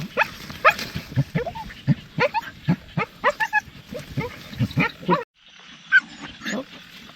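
Dog repeatedly barking at night in rural Isan, Thailand, calling for its owner: a close, rapid run of sharp barks that breaks off, followed by a few quieter, more distant barks.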